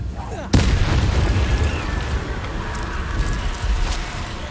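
Confringo blasting spell bursting in Hogwarts Legacy: one sharp, loud explosive boom, followed by a sustained roaring rumble that lingers through the rest of the moment.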